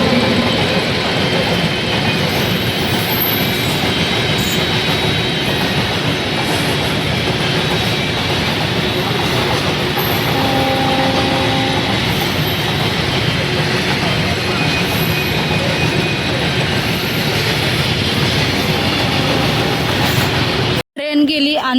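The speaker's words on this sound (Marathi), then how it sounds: "ट्रेन गेली आणि रेल्वे फाटक क्रॉस करून आम्ही आता पुढे चाललेलो आहोत।" A train passing a railway level crossing makes a loud, continuous rumble with rail clatter that fills the whole span before cutting off abruptly at the end, with wind in the background.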